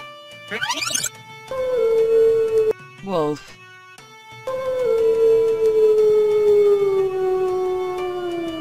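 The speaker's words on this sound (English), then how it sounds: "Wolf." A wolf gives a long, loud howl that slides slowly downward, with shorter howl fragments and toy-like sound effects before it, heard close and clear with no talking over it.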